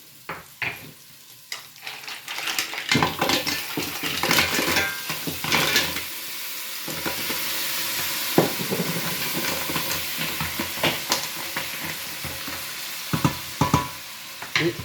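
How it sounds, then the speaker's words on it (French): Mussels tumble into a pan of sizzling onions and celery, with clattering shells, stirring and scraping of a utensil over steady frying, loud and close. "nous allons ajouter les moules"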